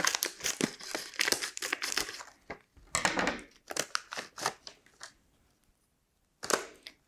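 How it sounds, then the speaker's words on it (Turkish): Plastic packaging for electronic sensor modules from a Pinoo invention kit crinkles and crackles as scissors cut it open, in close, loud bursts separated by short pauses. "Şöyle bir makas yardımıyla paketlerini açacağım."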